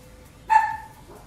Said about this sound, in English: barking is bad, so please don't do it